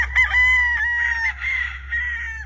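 A brood stag rooster at a game farm crows once, close and loud, a long wavering call held for over two seconds over a low steady hum.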